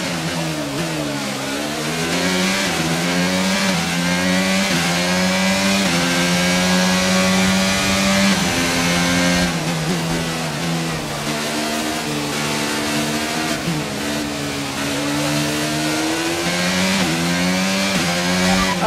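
Formula 1 car engine at speed in F1 2022 on the Monaco Grand Prix circuit, a loud continuous high-revving whine with rising and falling pitch sweeps as gears shift, running alone throughout.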